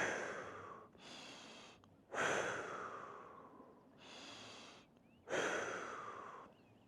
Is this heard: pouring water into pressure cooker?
no